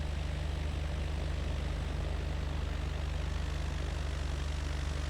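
Light propeller aircraft engine running up at about 2000 rpm before departure, a steady loud droning hum with strong low harmonics held throughout at close range, with no talk.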